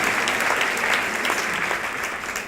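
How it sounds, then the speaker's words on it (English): Sustained applause from a large crowd at an evening fundraising event in Houston, steady and dense throughout without a break. "give yourselves a huge round of applause, everybody, for coming out here tonight"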